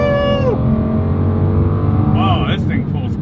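An exotic V12 car engine accelerating hard, a loud continuous roar with rising and falling pitch as it pulls through the revs, heard close with a voice talking over it.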